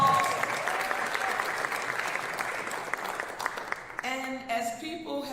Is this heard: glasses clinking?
no